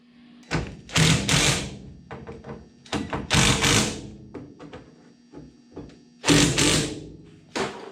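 Parts being tightened inside the door of a street rod during a power window regulator install, giving bursts of close ratcheting and mechanical clicking separated by short pauses, with no talking.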